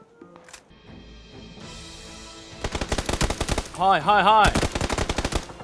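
Rapid M16 rifle fire in PUBG cracks in loud rhythmic bursts, the shots coming fast and close, while a player shouts excitedly over the shooting.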